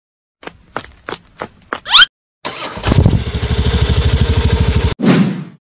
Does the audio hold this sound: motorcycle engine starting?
yes